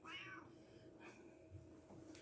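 A cat meows and grumbles in a long, complaining caterwaul after having its claws trimmed, close by and loud at first, then continuing in lower, drawn-out moans with a brief higher cry near the end.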